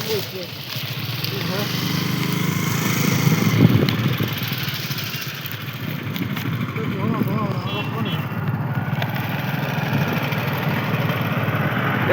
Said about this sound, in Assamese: চব গাড়ী আমাৰ গাড়ীয়ে খাদ্য লৈ গৈ আছে এইবোৰ